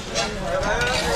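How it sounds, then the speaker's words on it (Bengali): Peanuts being roasted in hot sand at an old village market give a dense, steady gritty scraping and rustling, close and fairly loud. "এখানে বাদাম এরকম গরম বালিতে ভাজা হচ্ছে।"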